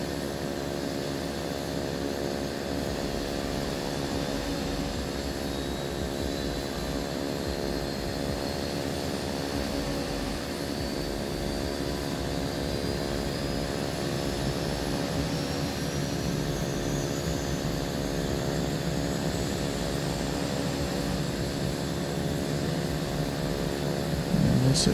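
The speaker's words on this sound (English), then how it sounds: "Well, we got an engine started." A Beechcraft Turbine Duke's turbine engine runs steadily just after start-up, a loud continuous whine and roar heard from inside the cabin with no talk.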